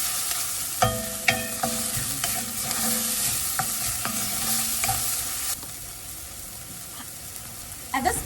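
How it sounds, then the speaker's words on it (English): Onions sautéing over a medium-high flame for shakshuka, a bright steady sizzle with sharp spoon knocks and stirring scrapes against the pan, easing somewhat in the final seconds, with no voices. "Be sure the flame is on medium-high when sauteing the onions."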